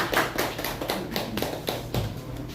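Applause for a visiting missionary at a church service, a burst of hand claps with distinct sharp taps over a murmuring room, steady and moderately loud for a couple of seconds.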